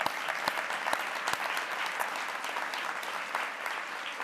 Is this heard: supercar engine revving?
no